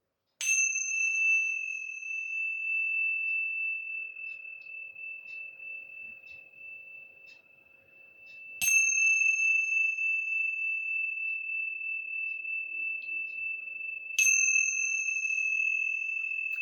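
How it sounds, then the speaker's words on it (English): Bright, high tingsha bells struck three times, each clear ring sustaining and slowly fading before the next strike, with faint incidental tapping between. "These are sometimes called tingshas or temple bells, and this is the beautiful sound that they make."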